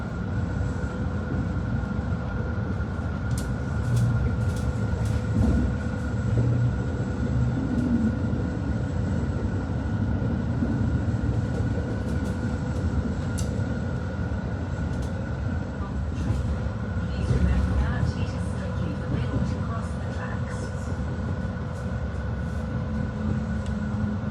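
A passenger train pulls into La Spezia Central station in Italy, heard from inside as a steady, loud rumble of wheels and carriage noise with faint clatter throughout.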